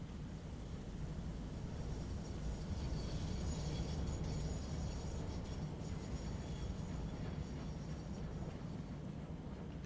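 A train running in the factory-building video game Satisfactory, a steady low rumbling roll with faint higher clatter, continuous and moderately loud.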